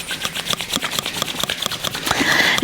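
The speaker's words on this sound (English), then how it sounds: "rub your hands together" Two palms rub briskly together in a quiet yoga session, a dry, rasping swish repeated in quick back-and-forth strokes that grows slightly louder toward the end.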